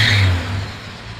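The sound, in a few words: warmed-up Toyota FJ60 Land Cruiser engine running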